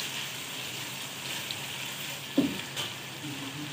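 Golden-browned boneless chicken fries in a handi as ginger garlic paste is stirred in, a steady close sizzle with a sharp utensil knock and a few scraping stirs.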